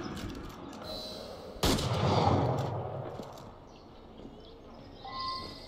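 Gunfire rings out in the Assassin's Creed Unity video game: a sudden sharp blast hits the quiet scene, then a rumbling tail fades slowly, with faint distant shots and clatter after it.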